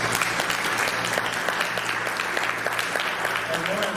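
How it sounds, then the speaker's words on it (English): An audience at a state administration event claps steadily, a dense wash of applause that stays even and loud for several seconds, with a little crowd murmur mixed in. "Give that a round of applause."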